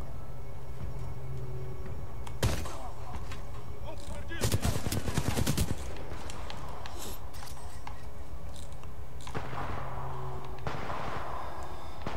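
Gunfire from small hostile ships in the shooter game Titanfall 2: repeated bursts of shots, with a dense, loud volley in the middle and more scattered bursts before and after, over steady game background noise.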